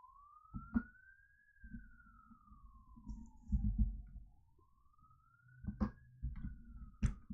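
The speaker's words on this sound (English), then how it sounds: "So we got some ambulance action here. Sorry about the siren if you hear that." An ambulance siren wails in a slow rising and falling sweep as it passes, moderately loud, with traffic rumble and a few knocks underneath.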